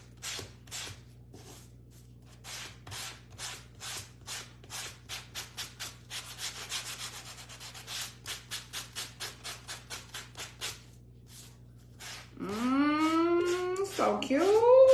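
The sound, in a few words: sanding a piece of a DIY surfboard wagon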